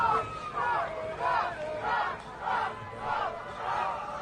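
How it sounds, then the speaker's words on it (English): A street crowd chants a name in a repeated rhythmic call, rising about every half second, with many voices shouting together from a short distance under steady outdoor babble. "They're yelling Trump, Trump, Trump"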